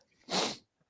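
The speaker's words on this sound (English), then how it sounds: "Sneezing my life away right now." A single close, loud sneeze bursts out in a short breathy blast, with quiet before and after.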